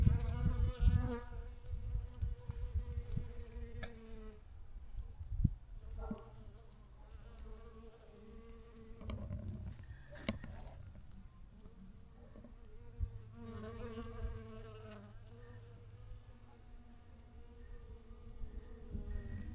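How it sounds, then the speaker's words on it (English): Bees buzz steadily around snowdrop flowers in spring, some close and some farther off, their drone swelling as insects pass near and fading as they drift away, with soft outdoor background and no talking. "And look how bees appreciate snowdrops."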